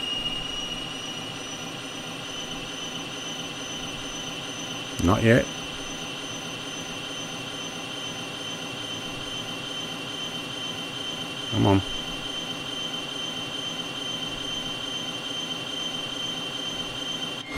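A Cessna T-37B Tweet jet engine starts up in Microsoft Flight Simulator, a steady high whine with a constant hum underneath, broken by two brief bursts, while someone speaks briefly over it.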